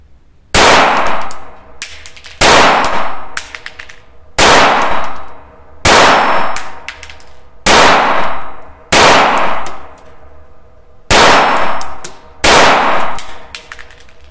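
A High Standard 106 pistol firing subsonic rounds at a shooting range, eight sharp, loud, evenly spaced reports with a ringing metallic tail after each, close by and with no talking.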